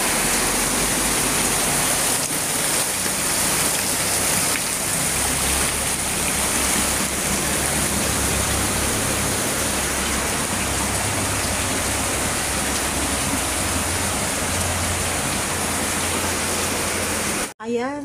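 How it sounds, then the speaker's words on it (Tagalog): Heavy rain pours steadily and loudly throughout during flooding, a dense continuous hiss and roar without pause, cut off abruptly at the end. "Lakas ng ulan"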